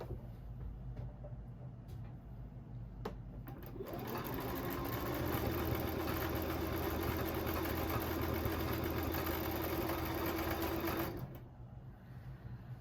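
Sewing machine stitching fabric at a steady run, a humming, rapid mechanical whir that kicks in after a few quiet seconds with faint handling sounds and holds for about seven seconds before stopping abruptly.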